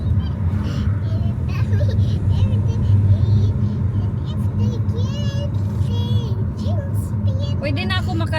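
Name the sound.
car being driven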